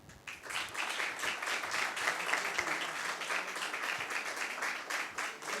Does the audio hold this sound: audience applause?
yes